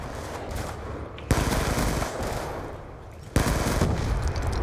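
Rapid close-range Scorpion submachine gun fire in Black Ops 2, a dense sustained burst, loud and near, with sharp fresh volleys kicking in twice, no talk over it.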